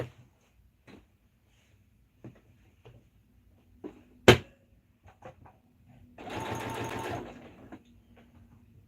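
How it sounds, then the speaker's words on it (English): Sewing machine stitching a leg of blue jeans runs in one short burst of about a second, loud and close, amid scattered handling clicks and a sharp knock in a quiet room. "Let's shove this leg through. Literally sewing in circles."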